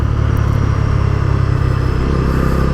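Steady, loud engine drone of a Bajaj Dominar 250 motorcycle while riding, a continuous low rumble with wind noise and no pauses.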